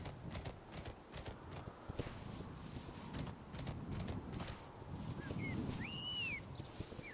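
Horses in the Horse Tales Emerald Valley Ranch video game clip-clop along at a steady walking rhythm. The hoofbeats are moderately close and sit over a soft outdoor ambience with faint bird calls.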